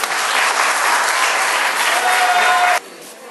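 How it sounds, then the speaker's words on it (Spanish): Loud, sustained applause from a crowd that stops abruptly near the end. "Un aplauso, señor."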